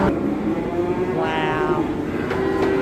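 Cattle mooing at a cattle sale, one long loud low moo rising and falling amid a constant din of livestock and crowd noise, with further calls near the end.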